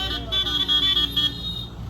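A vehicle horn toots in several short, loud bursts from near the gate of a crowded sugar factory, with engine rumble underneath.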